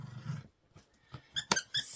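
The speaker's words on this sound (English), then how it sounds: "the dogs want to say hi" Dogs at home making a few short yips and squeaky whines, with a low growly sound at the start, close and bursting irregularly with pauses, no talking.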